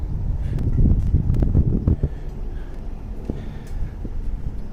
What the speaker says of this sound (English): around here next to the river it's always very windy.